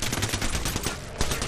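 Continuous rapid automatic gunfire from Apex Legends, loud and dense throughout with a sharp burst near the end, no talking over it.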